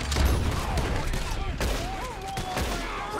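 Gunfire in Red Dead Redemption 2 rings out in a burst of rapid shots, moderately loud, with a player's voice breaking in between the cracks.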